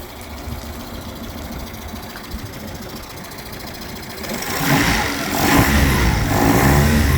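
A 1999/2000 Mercury (Yamaha) 9.9hp long-shaft four-stroke outboard engine with a freshly serviced carburetor, running with a steady close buzzing drone that grows louder and rougher partway through, as if throttled up, with no voices.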